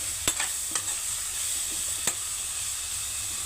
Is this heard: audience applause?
no